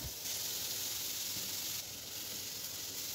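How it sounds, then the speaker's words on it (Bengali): Garlic, ginger, onion and chilli fry in a spoonful of oil in a wok, making a steady, soft hiss of sizzling with no break, faint and continuous. "আর কড়াইয়ে 1 চামচ তেল দিয়ে এভাবে রসুন, আদা, পেঁয়াজ, লঙ্কা এগুলো সব ভেজে নেব।"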